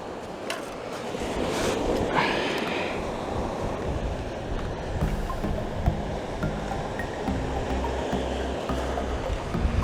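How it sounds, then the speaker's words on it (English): Wind gusting over a beach with surf breaking steadily as the tide goes out, a continuous broad rushing wash that stays fairly loud throughout, with no talking. "The wind's picking up a little bit. Don't know if you can hear it."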